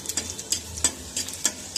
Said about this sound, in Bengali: এখানে মরিচ আর পেঁয়াজ একসাথে ভাজতেছি ডাল ভাতটা করার জন্য।